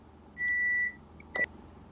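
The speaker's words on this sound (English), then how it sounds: "Sorry with the beeping. Dinner's getting started." A kitchen appliance gives a steady electronic beep for about half a second, then two short chirps follow, fairly loud over a quiet room.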